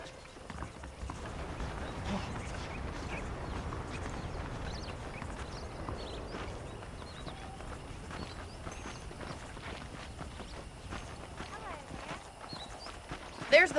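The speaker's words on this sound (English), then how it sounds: "let's see if you can still ride a horse" Horse hooves clip-clop steadily beneath a rider in Red Dead Redemption, a continuous walking gait at moderate volume over soft ambient background, with speech present.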